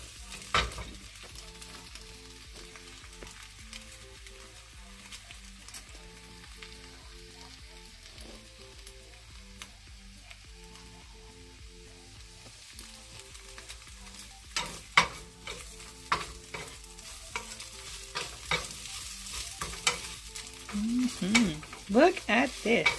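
Potatoes and eggs fry in a pan for breakfast tacos, a continuous close sizzle that turns busier in the second half as a utensil stirs and scrapes with irregular taps.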